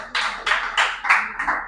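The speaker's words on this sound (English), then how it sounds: "So please a round of applause for them." Light clapping for a student group in a genetics class, five distinct clap bursts in an even rhythm, fairly close and clear, likely from one or a few people rather than a full crowd.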